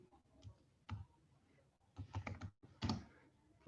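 Typing on a computer keyboard, sparse bursts of clicking keystrokes in irregular clusters, close and fairly quiet, with no talking.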